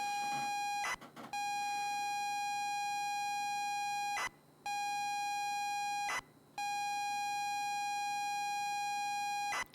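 A continuous electronic alarm beeps in the video game Stories Untold, a steady high-pitched tone broken by a few brief gaps.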